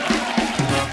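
Studio audience on an Indian comedy talk show erupting in a dense, close wash of cheering and crowd noise with a few swelling bursts, no speech over it.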